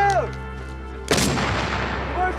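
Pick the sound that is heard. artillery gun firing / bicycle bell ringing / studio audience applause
artillery gun firing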